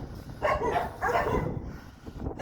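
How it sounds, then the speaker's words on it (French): Dogs locked up inside an old mine in a video game bark in short, repeated outbursts, the yelps echoing over a low rumbling background. "il y a quelqu'un qui a clairement mis des chiens enfermés là."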